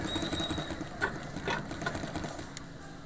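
A sewing machine runs steadily while stitching the side pocket of a pair of pants, giving a soft continuous mechanical whir with faint needle ticks, close up and heard alone without talk.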